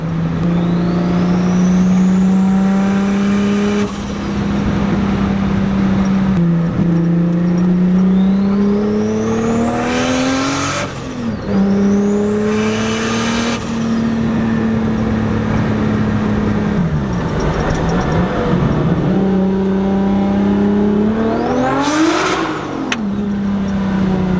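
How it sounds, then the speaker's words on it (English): A loud Datsun car engine revs hard and climbs in pitch through first gear, drops as it shifts into second, then climbs again, repeating in several strong, close pulls. "We did a couple first and second gear pulls"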